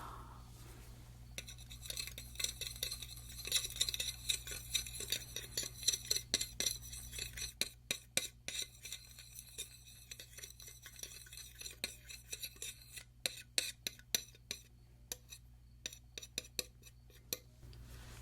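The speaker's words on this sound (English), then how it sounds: "And just mix it up with my little spatula." A small spatula mixes drops of liquid makeup, making soft, rapid, irregular tapping and scraping strokes close by in a quiet room over a low steady hum.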